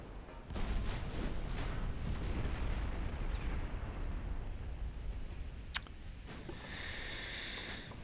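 Heavy warship guns fire in a naval battle in the game Ultimate Admiral: Dreadnoughts, a deep rumbling boom that rolls on for several seconds, then a sharp crack and a hissing whoosh near the end, with no talk.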